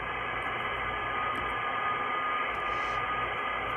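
Steady broadband static hiss from the monitor speaker of an Icom IC-7300 ham radio transceiver, loud and unbroken throughout, with no talk over it.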